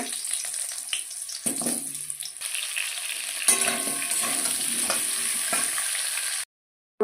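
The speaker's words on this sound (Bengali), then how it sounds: "এই তেলের মধ্যে একটু দিয়ে দিচ্ছি কালো জিরে ফোড়ন এবার এর মধ্যে আলুগুলো দিয়ে দিচ্ছি আলুগুলো ভিজে নেবো" Potatoes and black cumin seeds sizzle in hot oil for a Bengali boal fish curry with cauliflower, a steady close crackling fry that runs without talk and cuts off near the end.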